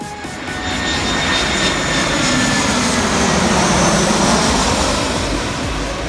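A propeller airplane roars loudly and steadily overhead for several seconds, a continuous broad engine drone with no talking.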